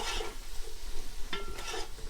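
Chicken and stock are stirred in a frying pan: a soft continuous sizzle with scraping utensil strokes and a light clink, heard close up.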